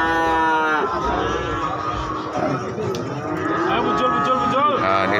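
Several breeding cattle at a cattle market moo loudly and close by, long overlapping bellows rising and falling over a busy background of crowd murmur.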